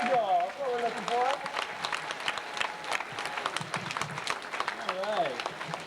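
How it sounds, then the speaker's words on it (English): Audience at a live bird show with a Marshall eagle breaks into sustained applause lasting several seconds, with a voice speaking over it at the start and near the end. "how about a big hand for our Marshall Eagle?"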